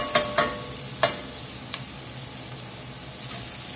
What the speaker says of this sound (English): we got the onion softened up there a little bit